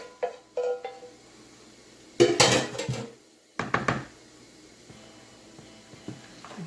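Wilted spinach and vegetables being mixed into a bowl of ground turkey: a few dull clanks and scraping clatters of a utensil against the bowl, separated by quiet gaps, close by and with no talking.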